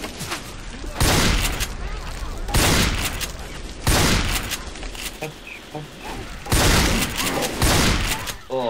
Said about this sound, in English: that was a really long range shot with a shotgun